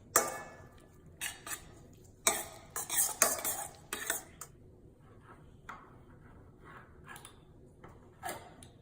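Egg salad mixed with Dijon mustard in a bowl, a spoon clinking and scraping against the dish in irregular bursts of sharp taps with quiet gaps between, close and alone.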